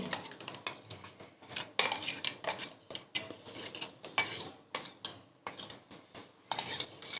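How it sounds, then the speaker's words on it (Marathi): A spoon scrapes freshly ground sandwich chutney out into a bowl, producing a close run of metallic clinks and scrapes in an irregular rhythm, with no talking. "आता मी ही एका बाऊलमध्ये काढून घेते"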